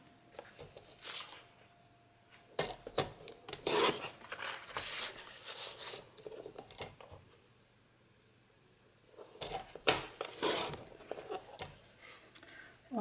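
Paper being trimmed to size with a cutter for a scrapbook photo album, heard as close scraping and rubbing strokes in two bursts separated by a quieter pause.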